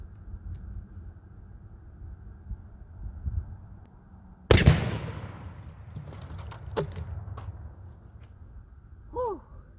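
A single loud, sharp blast from a 12 gauge shotgun fired into ballistic gel, followed by a decaying echo and then low rustling and a faint voiced exhale.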